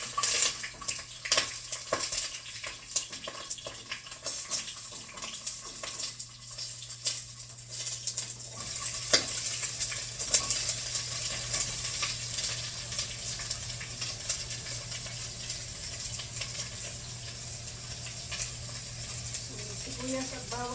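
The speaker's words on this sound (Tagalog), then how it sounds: "gigisahin po natin yung sibuyas at bawang" Onion and garlic sautéing in a pan, a steady soft sizzle with occasional scrapes and taps of a utensil stirring, fairly quiet and continuous with a low hum underneath.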